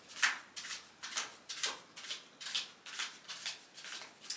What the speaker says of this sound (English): we're going to do one more pre-shuffle